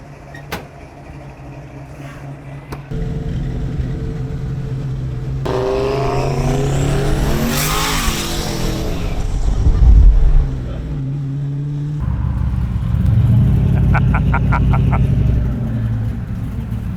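A 600-horsepower turbocharged Lincoln with nitrous launches and accelerates hard on a street, loud rising engine roar sweeping up in pitch, a sharp burst near the end, then another strong pass.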